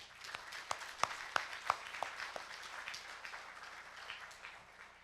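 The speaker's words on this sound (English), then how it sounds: "Let us give all of you a round of applause." Audience applause at an international forum keynote on Korean unification, heard as scattered, soft claps from a distant hall, a handful of sharper hand strikes standing out before fading into a quiet murmur.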